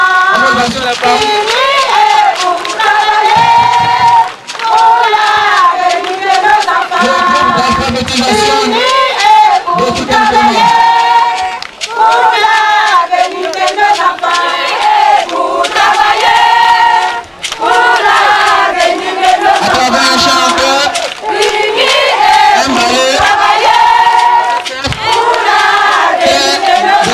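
A crowd at a volunteer day event gives the women a loud, sustained ovation, with cheering and shouting that carries on without a break for almost half a minute.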